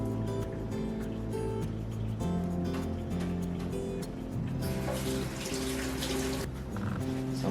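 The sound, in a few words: pouring blood and water out of ribs package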